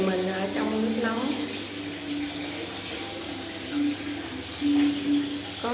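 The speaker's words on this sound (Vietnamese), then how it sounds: "có tiếng nước chảy róc rách." Water flows and babbles steadily in a cave thermal bath in Hungary, a broad continuous wash with soft gurgles, while someone talks over it and faint music plays.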